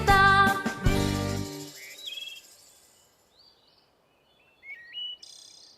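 Nightingale sound effect in a children's kindergarten-themed puppet show: a few short, high whistled chirps and trills that follow a brief singing voice, then rise and fall alone over near silence.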